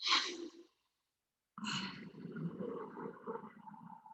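Two slow, breathy exhales through the nose, the second longer and rougher with a rushing, ocean-like texture, faint and close, with no talking.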